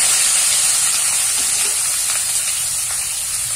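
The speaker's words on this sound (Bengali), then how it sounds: "পেঁয়াজ কুচি দিয়ে একটুখানি পেঁয়াজটাকে প্রথমে ভাজা ভাজা করে নেব।" Chopped onions fry in hot oil with bay leaves, giving a steady, loud hiss and sizzle that runs unbroken throughout, with no talking.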